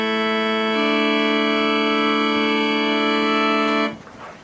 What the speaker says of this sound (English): So now we have 3 notes in our little scale, and they sound like this.